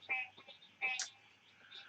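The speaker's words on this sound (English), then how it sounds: "y'all hear frogs in the background" Frogs croak outdoors, heard faintly through open windows of a house in South Georgia: a couple of raspy calls against a quiet background.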